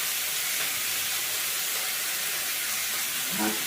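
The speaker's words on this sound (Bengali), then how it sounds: "একটুখানি ভেজে নেবো চিংড়ি মাছটা" Prawns frying in a pan give off a steady, loud sizzling hiss that continues without a break, with a brief faint clunk near the end.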